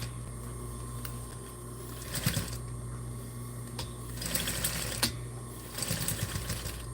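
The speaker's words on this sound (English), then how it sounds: "We're gonna sew around this leather side and hope it works pretty well." Sewing machine stitching around a leather side, running in steady hums with a few louder bursts of faster stitching, close and alone with no talk.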